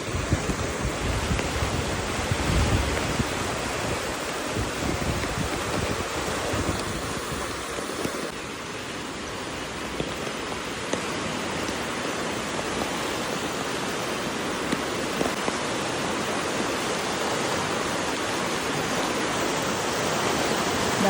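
Loud, continuous roar of a fast-flowing, flooded river at Parakkadavu, Angadippuram, rushing water with no pause and no voices.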